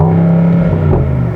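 Exhaust note of a 2024 Mercedes-AMG SL 63 4Matic in Sport Plus mode, a loud, steady low engine drone with a brief rise in revs near the end, heard up close with no talk.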